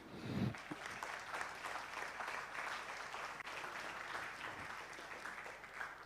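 An audience at an investment event applauds, a dense, continuous wash of many hands clapping at a distance, fairly faint and steady throughout.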